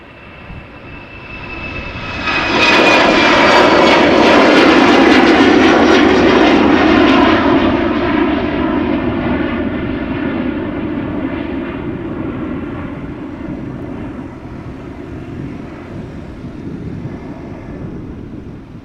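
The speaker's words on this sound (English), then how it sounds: "the A380 is expected to depart around now. The daily flight from Emirates going back to Dubai." An Emirates Airbus A380 departs Amsterdam Schiphol for Dubai, its engines swelling into a loud, sustained roar after a quiet start, then slowly fading as the jet climbs away.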